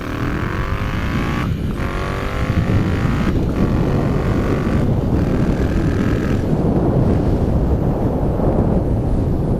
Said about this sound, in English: We're gonna let you listen to some accelerations and, you know, pullaways, flybys, stuff like that.